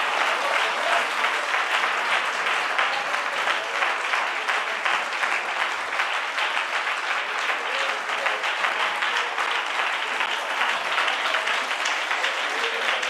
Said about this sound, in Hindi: ताली बजाकर धन्यवाद करो।